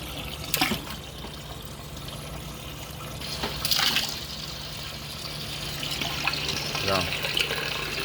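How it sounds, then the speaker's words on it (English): Hot water runs into the hot liquor tank of a home brewery, a steady rushing pour with a few brief splashes and knocks over a continuous low hum. "filling up the hot liquor right there."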